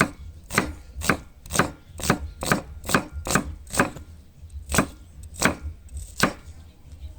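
Heavy chops of a thick knife strike a board in a steady series, about a dozen sharp thuds with a brief pause near the end, close and alone.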